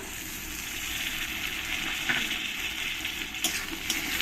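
Chopped tomato hits lightly browned onions frying in a pan for a Bengali-style prawn curry, producing a close, steady sizzle with a few brief louder spits and no talking.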